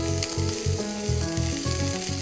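Chopped green onion frying in a pan gives a steady, close sizzle, a constant hiss running beneath rhythmic background music with repeating low notes.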